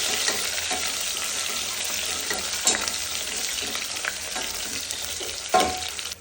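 Chopped onions frying in oil with mustard seeds and curry leaves for a sambar tempering, a continuous close sizzle broken by a few scraping stirs and a sharper clatter near the end, no talking.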